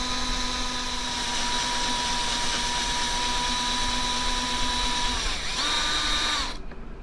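A power drill fitted with a spade bit whines steadily at full speed for several seconds while boring a hole in a jeweler's wooden bench pin, then winds down and briefly revs again before cutting off.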